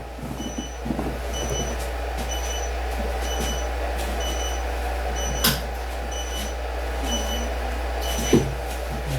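A charger for a Ricoh battery signals a completed charge with short, high electronic beeps repeating at regular intervals over a constant low hum in an indoor room.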